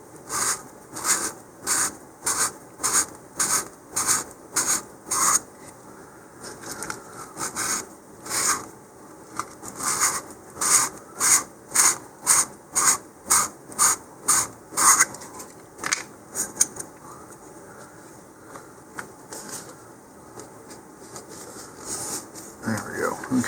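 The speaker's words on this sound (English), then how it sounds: "we're definitely going to need to use some sandpaper here" Sandpaper rubs the shoulder of an MPC "Red Giant" model rocket, a close series of short rhythmic rasping strokes in bursts, then quieter intermittent scraping.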